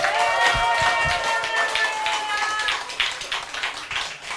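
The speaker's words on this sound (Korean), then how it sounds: "우리 송창훈 총장님께 다시 한번 큰 박수 부탁드립니다" Audience clapping for a university president during a lecture on happiness and relationships, with individual claps distinct over a background of voices and cheering at the start.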